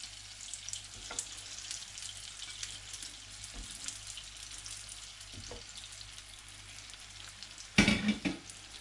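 Bread toasts in butter and oil in a pan with a steady, moderate sizzle that holds throughout. A louder clatter and crackle near the end sounds like the pan or utensil being handled.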